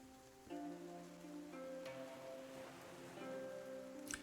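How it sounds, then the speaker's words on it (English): Steady rain ambience with dripping from above and waves outside, quiet and continuous, with a few sharper drip-like ticks scattered through and a brief brighter splash near the end. "over the sounds of the waves outside, the rain, the dripping from above"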